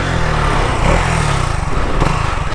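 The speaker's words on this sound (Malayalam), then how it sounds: "ഞാൻ ജസ്റ്റ് ഇതിൻ്റെ എക്സോസ്റ്റ് നോട്ടൊന്ന് കേൾപ്പിച്ചു തരാം" A stock-exhaust KTM Duke 200 motorcycle runs close by with a loud, steady, buzzy engine note and a fast, even pulse throughout.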